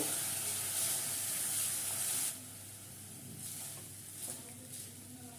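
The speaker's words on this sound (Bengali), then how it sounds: "মশলাটা দিয়ে ভালো করে কষিয়ে নেব" Spice paste sizzling in hot oil in a pan while frying for a Bengali katla fish curry, a loud steady hiss at first that drops to a softer crackle with a few spits.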